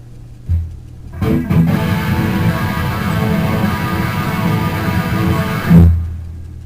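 After a brief low note, a gritty guitar chord through a chorus pedal into amp distortion, with wavering chorus texture, roars for several seconds, then cuts off.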